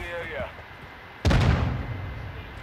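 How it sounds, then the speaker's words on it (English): A single loud, sharp blast of gunfire rings out in Call of Duty Modern Warfare 2 Ground War, cutting through quieter background and then decaying. "Somebody shooting at me."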